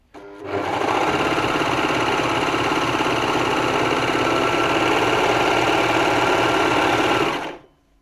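A baby lock Victory overlocker sews fabric with the differential feed adjusted, running steadily at speed for about seven seconds with a loud, even mechanical buzz and rapid stitching rhythm, starting and stopping cleanly, with no talk.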